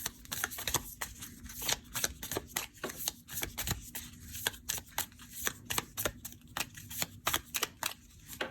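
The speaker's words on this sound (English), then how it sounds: "let me pull another oracle card" Deck of oracle cards being shuffled, a quick run of crisp papery riffles and flicks, close and fairly quiet, with no talking.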